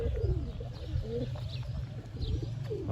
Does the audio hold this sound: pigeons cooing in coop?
yes